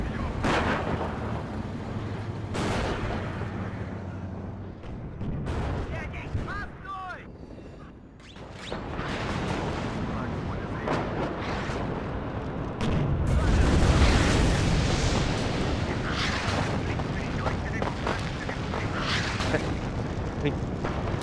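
Artillery fire in the war game Warno, heavy booms and rumbling blasts arriving one after another amid gunfire, loud and continuous through the battle, with someone talking over it.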